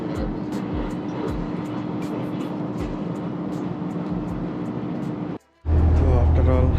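A steady loud rumble from inside a moving train bound for Okayama, with regular wheel thumps over rail joints, a constant hum, a brief near-silent gap, then a louder droning tone.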